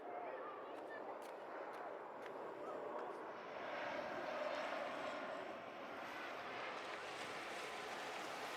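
An airplane approaching to land near a beach gives a faint, broad engine rumble that swells and fades across several seconds over a low wash of surf.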